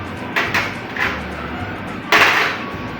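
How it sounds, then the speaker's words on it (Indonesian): A small piston pulled free from the cylinder housing of a hydraulic jack, giving a few short metallic scrapes and knocks spread across the moment, close and fairly loud. "Kita pisahkan piston kecil ini dari rumah silinder."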